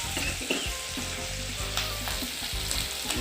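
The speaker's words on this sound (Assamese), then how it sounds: "এয়া মাংসখিনি আমি ভাজিবলৈ আৰম্ভ কৰিছোঁ।" Broiler chicken meat frying with a ginger-garlic mix, a dense steady sizzle with repeated stirring scrapes and clatters in a rhythmic pattern, close and fairly loud, no talking.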